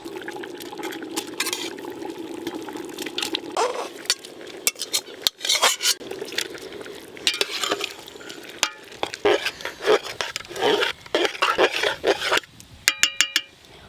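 Spiced vegetables with peas and cabbage stirred into half-cooked rice and lentils for khichdi, a soft bubbling simmer followed by busy spoon scraping and clinks against the pot, ending in a few sharp metallic taps, close by.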